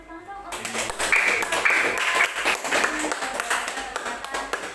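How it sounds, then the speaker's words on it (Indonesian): Audience applause breaks out during a radio interview in Bulukumba with Inkai karate athletes: dense, fairly loud clapping fills the room with scattered voices mixed in. "beri tepuk tangan dong"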